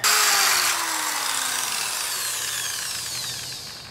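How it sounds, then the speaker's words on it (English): A power drill with dull bits bores into a metal trailer tongue, a loud close whine starting abruptly and grinding on steadily as the motor pitch slowly drops, with no talking. "So got me holes drilled."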